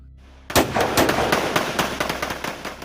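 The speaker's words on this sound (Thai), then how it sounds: "ตัวเองจึงหยิบอาก้า โดดลงไปตาม พร้อมเปิดฉากยิงใส่กลุ่มคนร้ายที่ตามมา" A rifle, an AK, fires a rapid burst of loud gunshots as a sound effect in a Thai radio-style drama about a roadside bandit shootout, with sharp repeated cracks after a brief quiet start and no talking.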